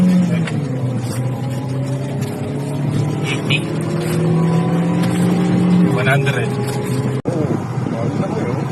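A car engine fitted with a Powerbox module revs and drones steadily up and down in pitch, loud and close, with voices talking over it and a brief sharp break near the end.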